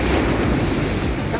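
Strong ocean waves at a beach resort, a dense roaring wash of surf with heavy wind buffeting the microphone, loud and continuous throughout.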